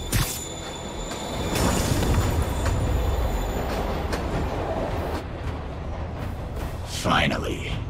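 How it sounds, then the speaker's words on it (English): A train pulling away from a station platform in Spider-Man Remastered, a steady loud rumble of rolling rail cars with a sharp burst near the end, under game voices talking. "Train's moving."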